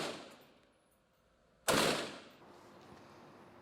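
A single sharp gunfire sound effect cracks out after a quiet lull and decays into a lingering reverberant tail, loud and close with no speech.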